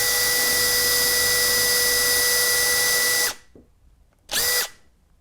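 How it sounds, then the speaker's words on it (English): A power drill whirs loudly and steadily for about three seconds, stops, then gives one more short burst, drilling holes to mount a model railway platform. "So now it's just a case of drilling a couple of holes"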